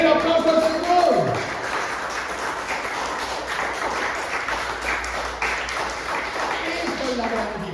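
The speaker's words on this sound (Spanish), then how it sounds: "¡Den el aplauso al Señor!" A church congregation claps and cheers together, a steady wash of applause mixed with raised voices, loud and sustained.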